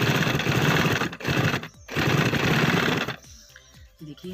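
A sewing machine runs in close, steady bursts while stitching narrow piping onto the band of a baby boy's kurta, stopping briefly between runs and ending with softer handling clicks.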